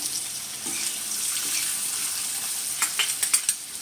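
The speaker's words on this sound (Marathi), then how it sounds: "तर कांदा थोडा छान परतून घेऊया" Chopped onion sizzles steadily in a pan over low heat, a soft continuous frying hiss with a few sharper stirring scrapes and clinks near the end.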